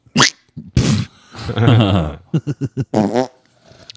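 A person blows a wet, sputtering raspberry with the mouth to imitate a fart, a short, loud rumbling buzz set between snippets of nearby male chatter.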